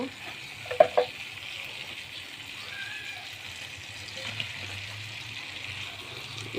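Chicken pieces go into a pan of onions frying in oil, giving a low, steady sizzle with a couple of sharp clatters near the start and quiet stirring throughout.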